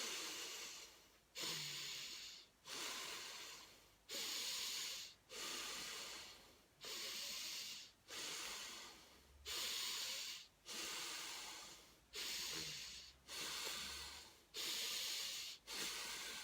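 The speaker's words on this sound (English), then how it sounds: "So let's just do a little bit of breathing now before we finish." Slow, deep belly breaths during a relaxation exercise, each long airy inhale or exhale rising and falling in a steady rhythm about every 1.3 seconds, close and alone with no talking.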